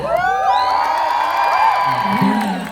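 Loud crowd cheering, whooping and shouting fills the room throughout, with excited voices rising and falling over a steady roar from a live comedy audience.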